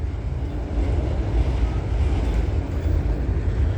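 A train passing trackside at night, a steady loud rumble of rail cars rolling by without a break, no voices.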